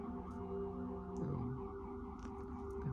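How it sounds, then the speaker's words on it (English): Sirens wail outdoors at a distance, a steady tonal drone with a brief pitch sweep, faint under a constant background hum. "there's a lot of sirens going off right now"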